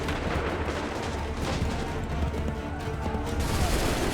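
Musket volley gunfire during a Revolutionary War battle in Assassin's Creed 3 at Lexington and Bunker Hill, a dense, continuous crackle of shots with low rumbling, fairly quiet and without speech.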